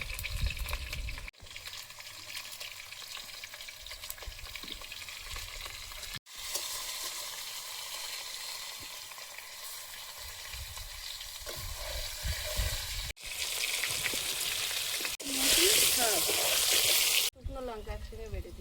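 A spatula scrapes and stirs food frying in a pan on a home kitchen stove, with a steady close sizzle, louder bursts of hissing near the end and people talking over it.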